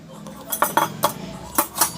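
A knife cuts homemade paneer made from milk powder on a plate, producing several sharp metallic clinks and taps in an irregular rhythm, close and clear.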